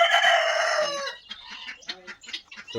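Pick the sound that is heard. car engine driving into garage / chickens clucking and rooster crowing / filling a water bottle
chickens clucking and rooster crowing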